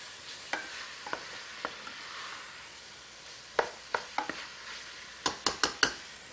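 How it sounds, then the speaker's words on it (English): Seitan browning in a pan: a soft, low frying hiss under sporadic sharp clicks and taps of a utensil stirring, with a cluster of quick scrapes near the end and no voices. "the seitan is starting to brown"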